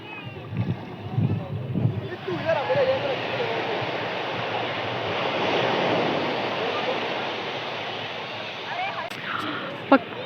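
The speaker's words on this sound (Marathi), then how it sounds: "फक्त लाटा." Sea waves roll and break on Juhu Beach at evening, a broad steady wash of surf with a voice talking over the first couple of seconds, then mostly surf alone with a brief sharp knock near the end.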